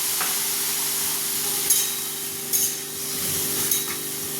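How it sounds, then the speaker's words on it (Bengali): Water hissing and sizzling as it hits a hot pan of cooking bitter gourd, a steady spray-like fizz with a few faint clinks and stirring scrapes. "এরপরে জল দেবো, জল জল দিয়ে দিচ্ছি।"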